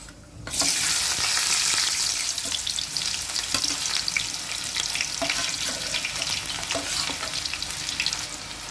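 Cut onions dropped into hot oil with cumin seeds in a kadai, a sudden loud burst of frying that settles into a dense, steady sizzle with occasional crackles and pops.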